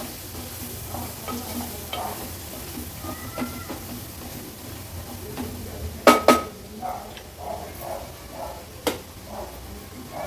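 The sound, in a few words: turmeric and masala frying in oil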